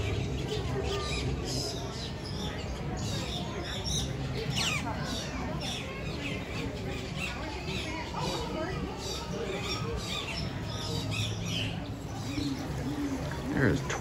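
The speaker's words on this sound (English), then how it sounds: "There are birds everywhere." Many birds chirp and call at once in a large aviary on the Maharajah Jungle Trek at Animal Kingdom, dense and continuous, with coos and twitters from near and far, and some faint speech in the background.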